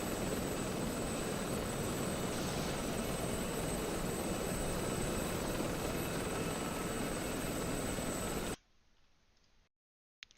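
An Mi-8 helicopter in a video game gives a steady, fairly faint rotor and engine drone, broadband and unchanging for about eight and a half seconds before dropping away to near silence.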